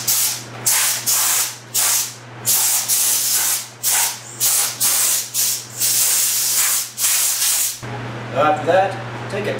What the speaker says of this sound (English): That is why I'm degreasing them. And this is why you wipe down your surfaces.